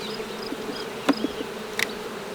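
Soft, close buzzing of honey bees droning steadily around an open hive, with a couple of brief sharper buzzes passing nearby.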